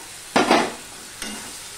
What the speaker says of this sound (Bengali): সম্পূর্ণটা আমি মিশিয়ে নিচ্ছি, দেখতেই পাচ্ছ মশলার সাথে দিয়ে একটুখানি আমি কষিয়ে নিচ্ছি